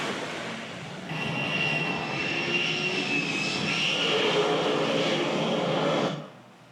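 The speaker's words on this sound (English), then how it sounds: "every 20 seconds, planes are taking off." Jet planes take off from an aircraft carrier deck, a broad roaring engine wash that swells and holds strongly for several seconds before cutting off, with no voices.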